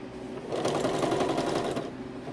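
Domestic sewing machine stitching steadily through pillow fabric, a continuous close mechanical whir with fast rhythmic needle clatter lasting about two seconds, no voices.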